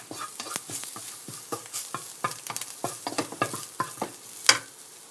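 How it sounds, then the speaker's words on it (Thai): Garlic stir-fried dry in a pan with little or no oil, giving a steady run of soft scraping stirs and light sizzling pops, close up, with no talking. "แบบคั่วแห้งๆเจียวพอกระเทียมหอมๆค่ะ"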